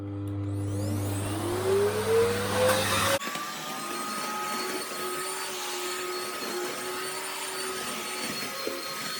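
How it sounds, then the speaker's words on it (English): A 2300 watt Hoover Dust Manager bagged vacuum cleaner whirs up with a rising whine that cuts out, then a steady airy roar continues close by without any talking. "the vacuum of choice today is the 2300 watt Hoover Dust Manager with a bag"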